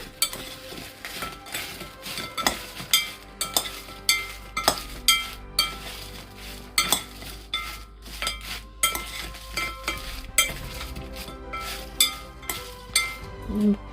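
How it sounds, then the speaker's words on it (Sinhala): A spoon stirs potato wedges in a pan on the stove, making repeated metallic scrapes and clinks against the pan. The sounds come in an uneven rhythm, close and fairly quiet, with a faint sizzle underneath and no speech. "දාලා හොඳට මේ හැන්දෙන් කලවම් කරගන්න"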